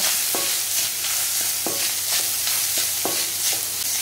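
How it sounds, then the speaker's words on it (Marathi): Grated coconut is stirred in a hot pan with cloves and cardamom, a continuous sizzling hiss broken by regular spoon scrapes about every half second, close and alone. "यात मी 1 वाटी नारळाचा चव घालत आहे. हा आता असा मस्त हलवून घ्यायचा."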